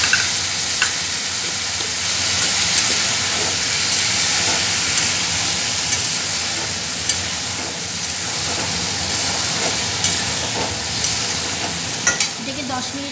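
Water from a spice-rinsing bowl hits a hot pan of vegetables being stirred and fried, giving a loud, steady hiss and sizzle with scattered spatula scrapes, and no talking.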